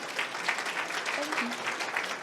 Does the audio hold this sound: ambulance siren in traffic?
no